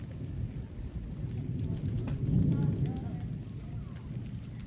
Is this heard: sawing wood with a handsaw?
no